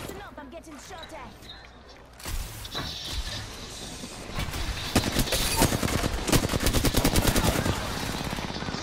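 Video game gunfire with a player under attack: rapid bursts of automatic shots crackle in quick succession, growing denser and louder toward the end, with a voice speaking over the action.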